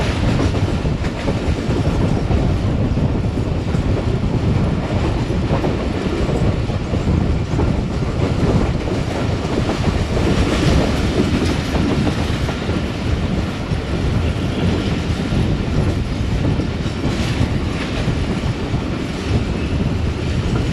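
Rehman Baba Express train rolling into Dina city, with a constant heavy rumble and rhythmic clatter of wheels over the track, loud and close with no voices.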